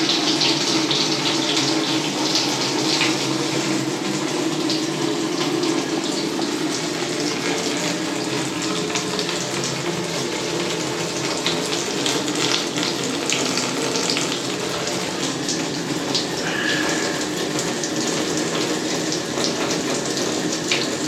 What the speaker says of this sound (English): let's run the bath hot and see.